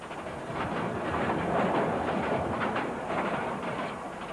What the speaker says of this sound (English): Foreign travelers who want to explore Ecuador's past can take a special train.